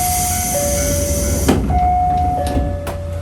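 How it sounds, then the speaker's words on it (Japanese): A Japanese local train on a line running beside the Kushiro Marshes in Hokkaido: a steady chime tone plays over the rumbling carriage interior, then a sliding door thuds shut with a few clunks as the train gets ready to depart. "列車の扉が閉まります。"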